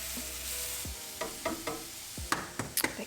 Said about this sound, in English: Go ahead and heat up your pan, and let's begin to make the scramble.